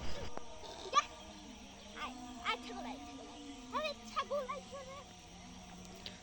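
Several goats bleating in short, scattered calls at moderate distance outdoors on a goat farm, with a low background hum and brief child-like voices.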